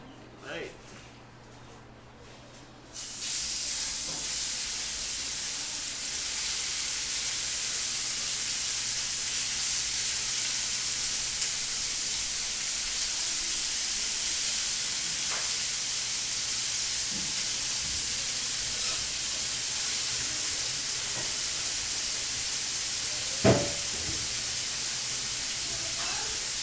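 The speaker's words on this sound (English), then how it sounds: "So while your frying pan is on and your chicken is searing" Chicken sears in a hot frying pan, giving a steady, even sizzling hiss that starts abruptly and keeps going for over twenty seconds, with occasional faint clicks and scrapes.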